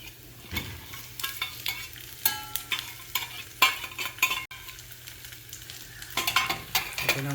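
Ginger being stirred quickly in a frying pan for dal palak, with repeated scraping strokes over a steady hiss of hot oil, close and moderately loud, no talk.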